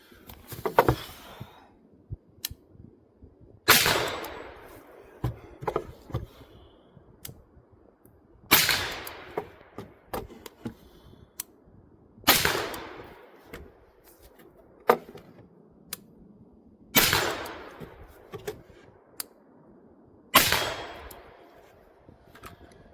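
Rifle shots fired from a barricade at an outdoor shooting range, six loud sharp cracks spaced several seconds apart, each with a ringing tail, plus fainter clinks and metallic pings between shots.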